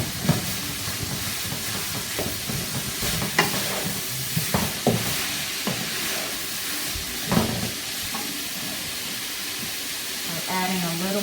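Cold, clumping rice being stir-fried in a hot pan: a steady sizzling hiss runs throughout, broken by sharp, irregular scrapes and knocks of a utensil working and breaking up the rice, all close.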